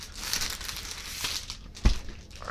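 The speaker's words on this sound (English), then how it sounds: "Let's just take off the plastic here." Plastic packaging wrap is peeled off a Microsoft All-in-One Media keyboard, giving close, soft crinkling across the whole moment and one sharper crackling tear near the end.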